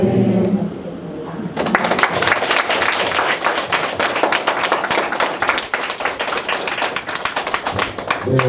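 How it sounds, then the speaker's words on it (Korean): A church congregation at a Bible study gathering bursts into loud, sustained applause after a short spoken stretch, close and dense, with many hands clapping in a rapid, continuous patter. "먼저 하나님께 영광의 박수 올려드립니다"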